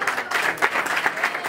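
Brief, steady applause from an audience at a press conference for a northern Mali festival, a continuous patter of clapping of moderate loudness.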